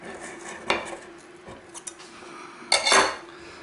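A knife blade scrapes around the inside of a metal cake ring holding a chocolate cake, making a few short, close metallic scrapes and clinks with quiet gaps between them.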